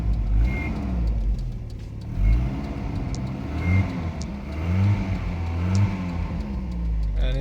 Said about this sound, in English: So we're gonna start it up. And it freaking runs.